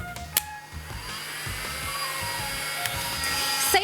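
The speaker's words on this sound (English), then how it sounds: "Safety first when using a heat gun" A heat gun blows hot air in a garage, a steady whining hum with a high-pitched motor tone, close by and fairly loud, with a few clicks at the start.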